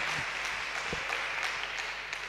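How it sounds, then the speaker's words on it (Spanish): A church congregation applauds together, a steady wash of many hands clapping at moderate volume for the whole stretch with no voice on top. "¿Cuánto le dan un aplauso al Señor?"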